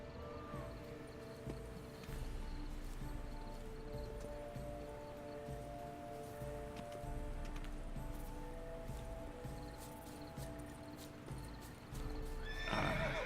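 Horse hooves clip-clop steadily over a layered ambient background in The Witcher 3: Wild Hunt, ending with a loud whinny near the close; no talking.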